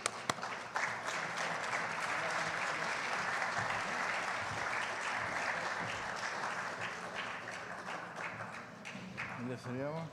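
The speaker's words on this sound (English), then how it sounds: "Warm applause." Warm, sustained applause from a gala audience at an awards ceremony, steady crowd clapping filling the room for about ten seconds, with a few voices and cheers mixed in near the end.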